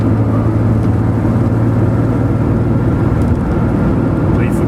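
A Porsche 911 3.2 breathes through a SCART Type Riva sport exhaust with a loud, steady, close low drone that holds a constant engine note without revving, with faint voices underneath.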